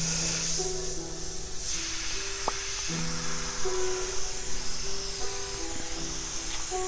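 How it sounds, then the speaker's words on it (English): A spray can hisses paint onto a T-shirt in short bursts over a loud, continuous airy background. "Get this spray can down"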